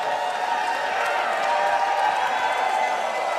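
A Portland, Maine wrestling crowd jeers Scott Garland during a street fight, a dense, continuous wall of crowd noise that holds steady and loud, with no single voice standing out.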